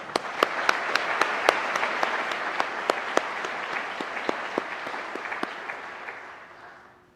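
An audience at a Columbus Division of Police recruit class graduation ceremony applauds, with sharp individual claps standing out from a broad wash of clapping that gradually fades away near the end.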